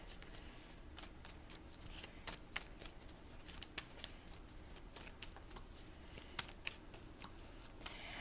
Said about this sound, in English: let's grab some cards here